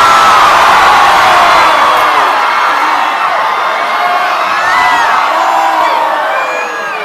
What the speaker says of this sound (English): you'll know to scream like you're being swallowed by a whale